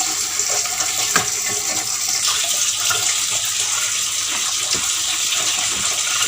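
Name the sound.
washing palm fruits in water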